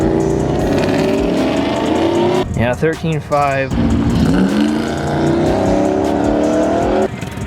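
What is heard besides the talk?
cam-swapped Ram truck accelerating on drag strip quarter mile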